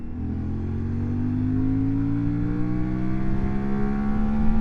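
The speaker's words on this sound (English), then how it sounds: "Fourth gear, I revved out at about 80. I hit the refuel cut." A CFMOTO Ibex 450 twin-cylinder motorcycle revs out in fourth gear toward its 9,500 rpm red line, with a steady rising engine drone that climbs in pitch over several seconds, close and loud with wind noise.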